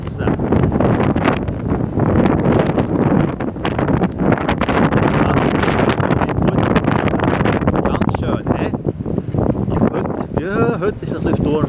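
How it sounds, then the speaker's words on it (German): Stormy weather with strong, gusty wind buffeting the microphone in a loud, continuous roar that surges and eases throughout, mixed with rushing air and rustling near a boat on the water. "heute ist es ein bisschen stürmisch"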